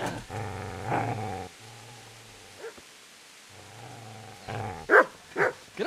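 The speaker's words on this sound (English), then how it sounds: "Get away, you mutt!" A dog growls and barks in the video game Kingdom Come: Deliverance, with low rumbling growls followed by a few sharp, close barks near the end.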